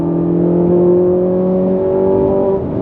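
Ferrari 458 Italia engine downshifting and pulling hard, a loud, close, continuous roar with a rising tone through the acceleration and a slight dip near the end.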